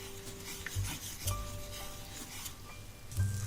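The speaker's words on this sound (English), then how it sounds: "We take a piece of butter and melt it in a frying pan." Butter melting in a frying pan for a honey wing sauce, giving a soft, quiet sizzle with scattered scrapes and clinks of a utensil against the pan, heard up close with no talking.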